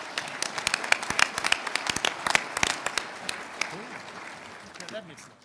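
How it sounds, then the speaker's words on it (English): Applause for a seminar panel on agriculture, scattered sharp claps from a modest audience that start strong and thin out toward the end, with faint voices beneath. "Join me in giving a round of applause to our panel"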